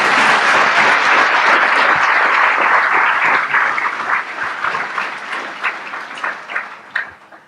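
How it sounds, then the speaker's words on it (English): An audience at a film discussion applauds loudly and steadily, then the clapping thins out into scattered, uneven claps before fading. "But we should clap for Morgan."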